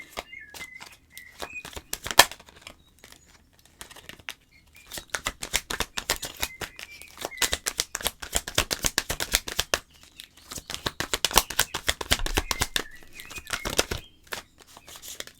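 Tarot cards being shuffled by hand, a run of dense papery riffles and flicks in bursts with short pauses, close and fairly loud, with no talking.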